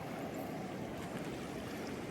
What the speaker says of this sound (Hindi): लहरें भी बहुत दूर दूर आ रही है।